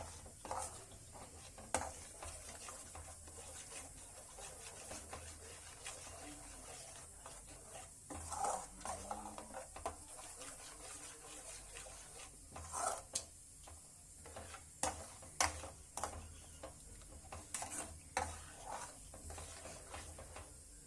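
Brain and egg frying over a low flame in a pan, with a steady soft sizzle under repeated scraping and stirring strokes and occasional clinks of a utensil against the pan; no talking.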